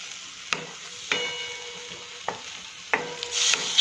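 Tomato gravy for a restaurant-style kaju cashew curry cooking in a pan, with a steady soft sizzle, a few sharp spoon taps against the pan and a louder bubbling flare near the end.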